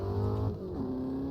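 Formula Vee Gen2 race car engine on road tyres in Automobilista 2, a steady buzzing drone that rises and then shifts pitch partway through, loud and close, with no talk.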